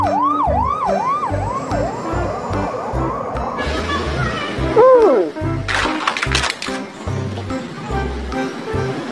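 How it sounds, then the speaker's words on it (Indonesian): Toy fire truck siren wailing in repeated rising and falling sweeps, loud and close over a bouncy musical background, then giving way to clattering noises. "ada mobil pemadam kebakaran"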